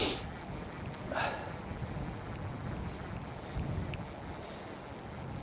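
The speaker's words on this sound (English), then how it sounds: "Sorry if you can hear that on the mic." Wind rumbles across the microphone by the River Tyne while fishing, a low steady buffeting at modest level with a couple of brief louder gusts and faint mechanical clicks.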